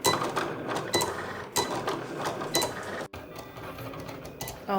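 Cricut cutting machine cutting designs for Nuka-Cola bottle cap props, a fairly faint whirring and clicking with repeated short mechanical bursts and brief pauses.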